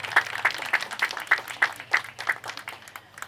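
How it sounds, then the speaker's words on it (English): Audience applause for tour guides at the Cumberland Recovery Response Center, a moderate run of clapping from a modest crowd with distinct individual claps standing out, steady and fairly close. "Just give a round of applause for"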